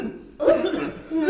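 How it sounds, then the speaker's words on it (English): A person coughs in a movie scene, two short, loud, close bursts about a second apart, the second one rougher and throatier. "are you even coughing?"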